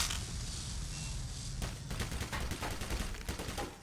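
Automated turrets in the game Black Mesa open fire, a rapid string of sharp gunshot bursts that starts after a steady ambient hum and rattles on for several seconds, loud and close.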